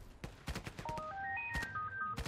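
A telephone rings in the online shooter Battlefield Play4free with a short rising electronic melody of beeping tones, mixed with a steady stream of gunfire clicks and game noise.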